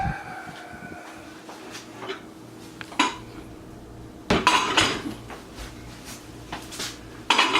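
A cooking pot of beef bourguignon is handled after long oven braising, giving several clanks and clinks of metal lid and pot, sharp isolated knocks at intervals over a quiet room background.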